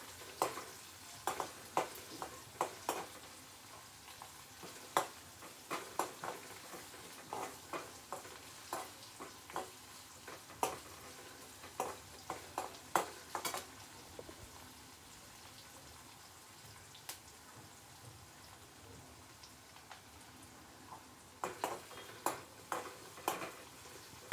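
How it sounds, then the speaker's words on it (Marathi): Chopped onion sizzles and fries in a pan for upma, a steady close crackle broken by frequent sharp scraping stirs and clinks of a spoon against the pan. "कांदा लाल होईपर्यंत दोन मिनटं भाजून घ्यायचा"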